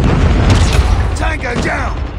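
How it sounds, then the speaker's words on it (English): A Predator missile strike from a Call of Duty: Mobile multiplayer match, a loud low booming explosion with rumble and scattered gunfire, overlapped by a game voice announcement. "Friendly Predator missile inbound."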